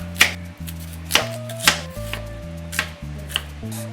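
Red onion chopped on a cutting board: about seven crisp, close knife strikes in an uneven rhythm over a low steady background hum.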